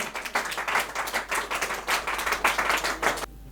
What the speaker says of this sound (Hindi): तालियों से इस्तकबाल कीजिएगा शान मुहतरम।